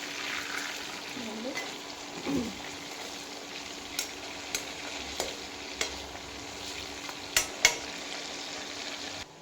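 Chicken biryani masala fries and is stirred in a pan, with a steady low sizzle beneath scattered scraping clicks of a spoon against the pan.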